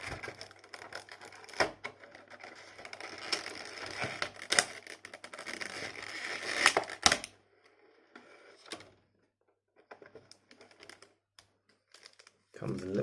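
Tape is peeled off the packaging of a Hainiu Studio Model One 1:18 scale action figure, giving close bursts of crackling, tearing and crinkling that come in spurts, then a quieter stretch with a few scattered rustles.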